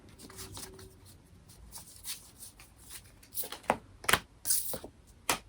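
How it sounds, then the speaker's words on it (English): Tarot cards being flipped over and handled, a series of crisp papery flicks and snaps that grow louder and more frequent, close up with soft rustling between them. "Let me just flip these all over."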